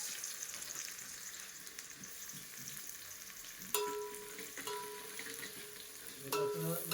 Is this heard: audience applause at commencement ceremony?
no